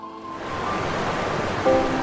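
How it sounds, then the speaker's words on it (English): Chitrakoot Waterfall on the Indravati river in Bastar district, a wide horseshoe-shaped fall dropping 30 meters, gives a steady broadband roar of rushing water, continuous and fairly loud with no talk. "It's a beautiful waterfall situated on the river Indravati in Bastar district, around 35 kilometers from Jagdalpur."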